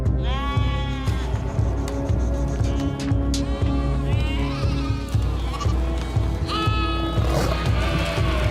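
A flock of many sheep bleats continuously on a mountain pasture in snow leopard country, overlapping calls rising and falling, loud and close, with a dense din of livestock throughout.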